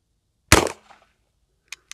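A Henry All Weather side-loading-gate .44 Magnum rifle fires a single sharp, loud shot outdoors, followed by a short echo and two faint small clicks afterward.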